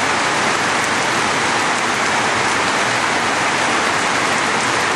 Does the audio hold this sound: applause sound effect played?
no